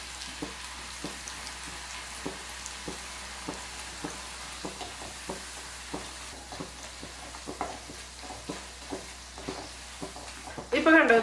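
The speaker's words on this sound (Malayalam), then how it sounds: "ഇപ്പൊ എണ്ണ നന്നായിട്ട് ചൂടായിട്ട് ഇതിലേക്ക് നമുക്ക് ചപ്പാത്തി കുറച്ചിട്ടിട്ട് ഫ്രൈ ചെയ്തെടുക്കുക" Leftover chapati pieces frying crispy in hot oil over high flame, a steady close sizzle with scattered sharp pops and crackles, ending in a louder clatter.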